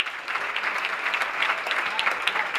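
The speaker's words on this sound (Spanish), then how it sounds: "este calurosísimo aplauso no solo viene por mí" Warm, sustained applause from a large outdoor crowd at a community festival in Antequera, Málaga, steady and dense with individual claps crackling through.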